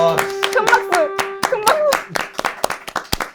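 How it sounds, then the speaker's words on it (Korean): A small group claps in a loose, uneven round of distinct nearby hand claps, with excited voices and laughter mixed in among the claps. "큰 박수"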